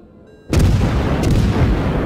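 Heavy naval gunfire in the World of Warships game, a loud booming salvo that erupts suddenly after a quiet moment and rolls on as sustained rumbling blasts from the warship's guns.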